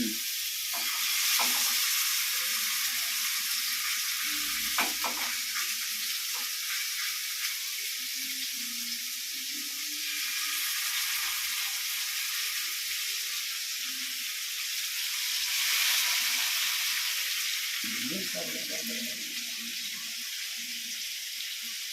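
Fish fries in a pan beside onions sautéing on the other side, a steady broadband sizzle running the whole time with a few scattered stirring knocks and swells, loud and close with no talking.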